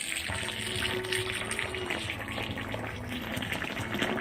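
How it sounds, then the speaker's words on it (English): Water trickling and splashing onto wet pottery clay on a wheel, a soft continuous bubbling and gurgling with faint low hum underneath, close and quiet. "And we just add water to the center."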